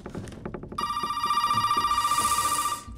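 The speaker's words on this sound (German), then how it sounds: "Komm, wir gehen mal ans Telefon." In the video game Resident Evil 7, an old-style telephone bell rings in a loud, steady electric trill that starts suddenly after a few soft footsteps and keeps going for about two seconds.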